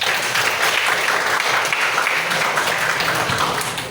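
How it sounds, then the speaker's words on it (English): Students in a classroom applaud their classmates with a loud, dense burst of clapping that holds steady for a few seconds before tapering off at the end. "give applause for them, guys"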